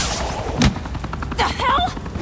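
Cops firing guns in the video game Batman: The Enemy Within, sharp close shots and a short burst of rapid fire mixed with game sounds, with a voice briefly heard.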